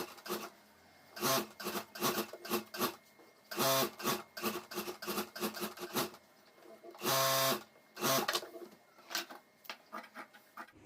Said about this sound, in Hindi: यहाँ मैं चारों तरफ सिलाई कर देता हूँ।